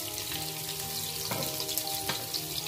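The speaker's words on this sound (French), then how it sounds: "on va blanchir nos oignons pendant 1 minute environ" Onions frying in hot oil for a chicken DG dish, a steady close sizzle with a couple of brief stirring clatters and no talk.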